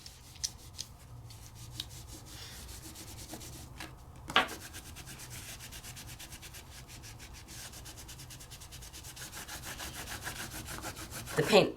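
A baby wipe rubs paint off a molded plastic embossing folder in steady, close scrubbing strokes that rasp softly and continuously, with a few brief knocks and a louder scuff near the end.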